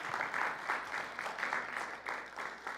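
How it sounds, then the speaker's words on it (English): A church congregation at a Sunday service applauds fathers, giving a steady, dense wash of many hands clapping that swells and eases in waves, moderately distant and continuous throughout. "Let's give them an applause"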